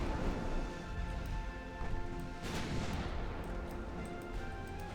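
Naval artillery fire in the warship game Ultimate Admiral Dreadnoughts, with dense, continuous rumbling booms and crashing blasts layered over one another at steady loudness, a sharper burst standing out midway.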